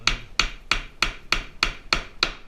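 Steady hammer blows drive nails into the wooden corner of an insulated bee hive box, eight sharp, evenly spaced strikes about a third of a second apart, close and ringing with no voices.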